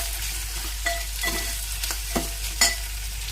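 Green chillies and turmeric fry in a pan, with a steady sizzle broken by several sharp scrapes and clinks as a utensil stirs them back and forth.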